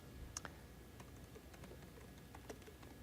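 Typing on a computer keyboard during a Microsoft Ignite 2016 tech demo: a few faint, sparse key clicks at irregular intervals over quiet room tone.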